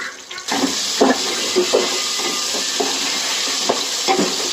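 Chicken biryani mixed in a pan, a spoon scraping and turning through wet rice in repeated strokes over a loud, continuous hissing sizzle, close up and without speech.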